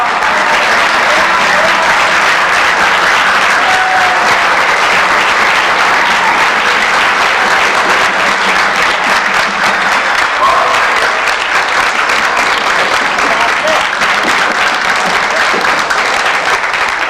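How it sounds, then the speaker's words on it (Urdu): Sustained audience applause fills a hall at the opening ceremony of the Pakistan Association of the Blind's silver jubilee, a dense, steady wash of many hands clapping for the full stretch with no voices on top. "حضرات محترم پورے 5 منٹ تالیاں بجائیے"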